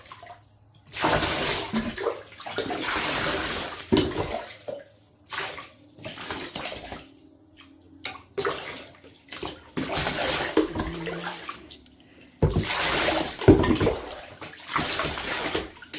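Water from a bath sprayer or tap runs in repeated bursts over a Maine Coon cat's coat in a tub, close and splashy, with pauses between soakings.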